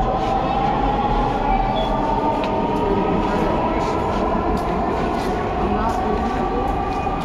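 A metro rail train at a station gives a loud, steady rumbling roar throughout, with faint clicks and possible voices mixed in.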